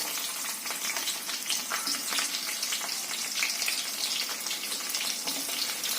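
Cumin seeds frying in well-heated oil make a steady, dense crackle and sizzle that runs close and loud throughout, with no voices over it.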